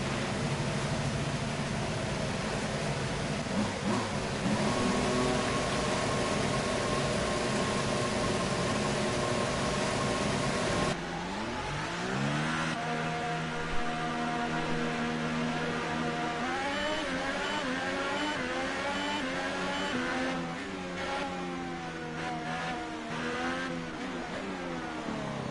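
A McLaren Formula 1 car on a qualifying lap in the racing game F1 2018, its high-pitched engine wailing continuously and loud, with rising and falling revs through gear changes and a sharp downshift partway through.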